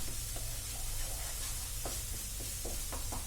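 Onion, ginger and garlic paste frying in a pan for a fish gravy, a steady broadband sizzle with faint stirring scrapes and occasional soft spatters, close and continuous with no talking.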